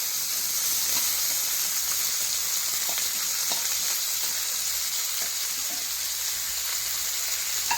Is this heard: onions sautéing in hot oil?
yes